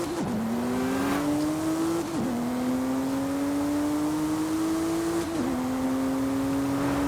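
A Porsche racing in Forza Horizon 5, its engine droning loud and steady as revs climb in long sweeps, broken by two quick gear shifts, with a constant rush of road and wind noise underneath and no talking.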